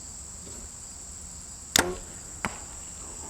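A single arrow shot from a 60-pound bow hits a homemade 4 ft by 4 ft range target at 40 yards with a sharp thwack, followed by a smaller knock, against steady insect hum.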